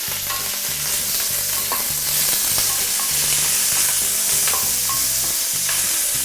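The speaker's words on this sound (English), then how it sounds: "you want to keep on stirring them like this until you start seeing the oil started to come out from the pot itself" Pork belly for a braised dish fries in a pot while being stirred, giving a loud, steady close sizzle with regular scraping strokes and no talking.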